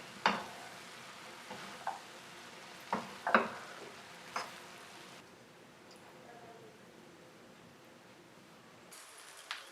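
Egg fried rice with green onion and scrambled egg is stirred in a pan, with several sharp scraping strokes over a faint sizzle, close and fairly quiet.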